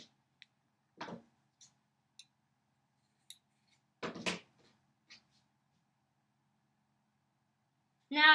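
Scissors snip apart chain-pieced quilt fabric in a handful of sharp, separate clicks and cuts against near silence, followed by a brief burst of talking at the end.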